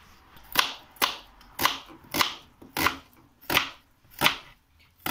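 Knife chopping through food on a cutting board while mutton is being cooked: eight evenly spaced, crisp strikes in a steady rhythm, close up with no talking.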